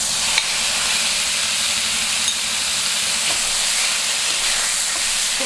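Chicken pieces fry in hot oil in a pan on the stove, giving a steady, close sizzling hiss with faint crackles and occasional small pops and no talking.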